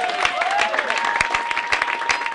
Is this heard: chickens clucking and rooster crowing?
no